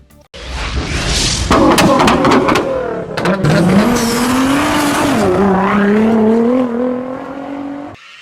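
A Ferrari 250 GTO engine revs loud and close, its pitch climbing and sagging in a sustained mechanical howl that breaks off abruptly at the end.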